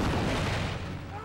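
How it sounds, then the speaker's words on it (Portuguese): Civil War cannon artillery firing at Gettysburg, heard as a dense, continuous rumbling barrage with heavy low booms and no clear gaps between shots. "cannon that are firing, so we can get an idea of what this sound is like"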